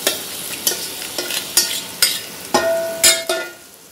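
Onions and masala sauté in a clay pot for a fish curry, stirred with a spoon. Close-up sizzling frying runs under repeated scraping strokes of the stir, loud and alone.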